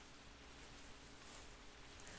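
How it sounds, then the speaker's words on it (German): Soft, steady rain in theHunter hunting game falls as an even, quiet hiss, faint and continuous with no voices. "der Regen ist so leise"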